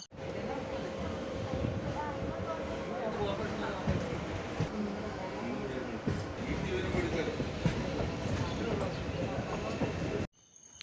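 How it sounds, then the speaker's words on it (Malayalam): A MEMU train pulls out of Kollam toward Kottayam, with a steady low rumble and rhythmic clatter of wheels over rail joints running throughout at moderate distance, then cutting off abruptly near the end. "മെമു ട്രെയിൻ കൊല്ലത്ത് നിന്ന് കോട്ടയത്തേക്ക് തിരിച്ചിരിക്കുകയാണ്"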